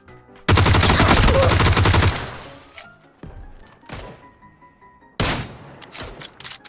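Automatic gunfire in PUBG, a loud sustained burst of rapid shots lasting about a second and a half, followed by a few scattered single shots and a final short burst.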